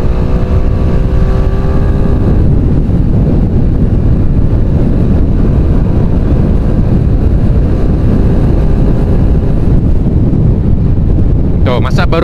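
A Honda Beat scooter with a 128cc carburettor engine and 7/9 mixed rollers accelerates hard toward top speed. A rising engine drone fades into loud, constant wind roar buffeting the microphone.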